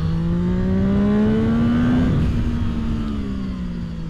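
A Zontes 703 RR with a 699cc three-cylinder engine climbs through the revs on a tight track, pitch rising for two seconds, then dropping off as it sweeps past nearby, loud and unaccompanied by voices.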